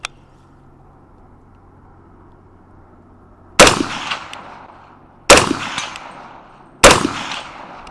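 Three loud, sharp rifle gunshots ring out at the range, each at a target 100 yards away, with about a second and a half between shots and a short echo after each one over a quiet low hum.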